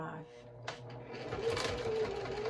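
A domestic sewing machine top stitches across a thick wallet, its motor whirring up into a steady run with a rising whine while a person talks over it.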